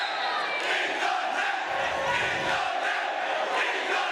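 A large crowd at a college volleyball match, Hope vs. Calvin, roars and cheers loudly and steadily throughout.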